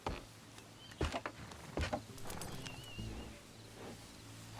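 Horses in Red Dead Redemption 2, faint snorts and hoof scuffs with a few louder thumps near one and two seconds, set against a low ambient bed.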